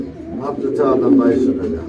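Pigeons coo at a pigeon sale where a pair is offered with eggs, soft, low, rolling calls heard close, mixed with a nearby human voice.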